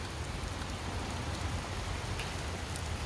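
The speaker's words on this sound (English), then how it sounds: "Do you hear that? All that rain?" Heavy rain falls steadily as a dense, unbroken hiss that stays even and fairly loud throughout, with no voices.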